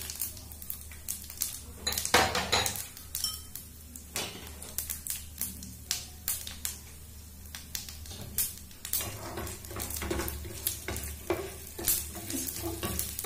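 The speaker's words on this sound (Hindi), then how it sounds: "इसको लाल होने तक ऐसे भूनेंगे।" Cumin, mustard seeds, chana dal and urad dal roasting in a pan for curd rice, with a steady sizzle and repeated scraping and stirring of a spoon against the metal, close and clear with no talk.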